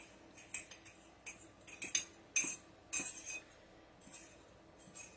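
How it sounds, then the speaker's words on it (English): A spoon stirs dry ingredients in a mug, making a series of light, close clinks and scrapes in uneven bursts that taper off toward the end, with no voices. "before I add my liquid ingredients, I'm just going to mix all of this up"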